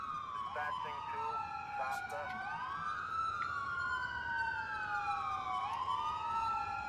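Several overlapping police car sirens wail in the GTA IV mod LCPDFR, rising and falling tones layered on each other, moderately loud over a steady background hum.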